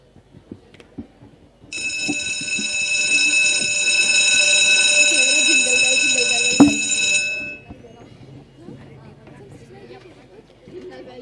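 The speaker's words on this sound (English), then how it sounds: "the bell rings" An electric school bell rings at a school gathering in one continuous, loud, buzzing tone that lasts about six seconds, then cuts off. Murmuring voices and small noises are heard before and after it.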